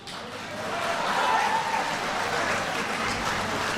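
Audience applause at a tense Chicago community meeting about a migrant shelter, a dense sustained clapping from a crowd in a hall, steady and fairly loud for several seconds.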